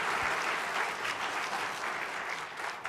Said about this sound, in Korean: 다시 한번 목사님 이렇게 감사의 박수로 했으면 좋겠습니다